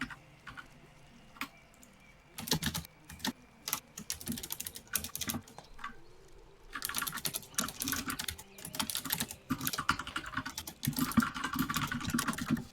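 Fingers tap on a computer keyboard in irregular bursts of clicks, quiet at first and then denser and busier, with no talking.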